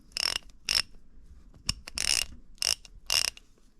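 A reassembled NAPA 1/2-inch drive ratchet, made in the U.S.A., gives several short bursts of close, crisp clicking in an uneven rhythm, alone with no talk.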